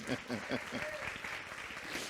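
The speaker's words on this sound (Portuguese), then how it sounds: "Um aplauso" A church congregation gives a short round of applause, clapping softly and somewhat distantly with voices talking over it.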